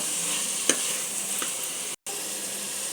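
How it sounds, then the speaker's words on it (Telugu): Tomato pieces frying with salt in a pan are stirred, giving a steady loud sizzle with a couple of faint scrapes of the spoon and one brief dropout. "సన్నగా కట్ చేసిన టమాటా ముక్కలు వేసుకొని బాగా కలిసేటట్టు తిప్పుకొని"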